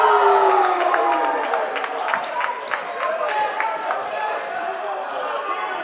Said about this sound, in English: Fans cheering for him as he knocks that one down.